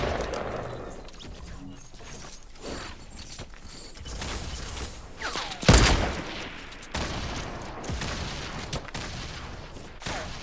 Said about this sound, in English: keep shooting, keep shooting, keep shooting